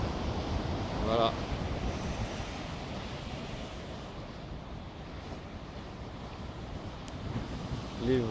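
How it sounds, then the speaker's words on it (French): Constant roar of ocean waves at Biarritz at sunset mixed with wind buffeting the microphone, with faint voices now and then. "Les vagues."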